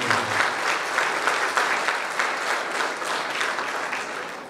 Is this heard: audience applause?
yes